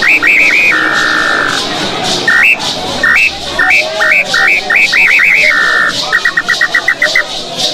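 An indigenous Jiquitaiá whistle imitates the call of the tinamou (inambu) bird. It plays loud, close high tonal notes as quick clustered pips and a few held tones, repeated in bursts across the clip.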